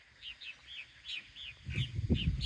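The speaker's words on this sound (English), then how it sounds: "purple martins are desirable because they're a swallow" Purple martins, North America's largest swallow, chirp around a bird house in a quick run of repeated squeaky, gurgling calls, moderately close, while a low rustling rumble builds underneath toward the end.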